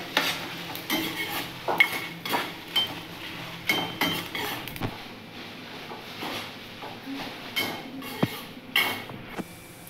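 Green chilies being fried and stirred in a pan for vangibath at home, with repeated scraping and clinking strokes of a spoon against the pan over a low sizzle, no talking.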